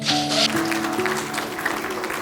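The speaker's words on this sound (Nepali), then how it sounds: "ठाउँ साट्दाखेरि हामीले ताली बजाउनु धेरै राम्रो" Wedding guests at a Nepali Christian ceremony clap together as the couple swaps places, a dense, steady patter of applause mixed with a sustained musical tone and faint voices in the room.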